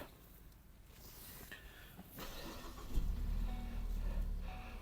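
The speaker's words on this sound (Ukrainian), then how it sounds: "Давайте заведемо його. Він у нас на кнопці старт-стоп." A 2014 Ford Focus engine cranks from a push-button start and catches, then settles into a steady low idle rumble, close by, with faint clicks beforehand.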